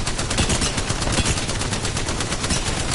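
Rapid, sustained automatic gunfire in an Apex Legends battle royale match, dense overlapping shots filling the whole stretch at steady loudness with no talking.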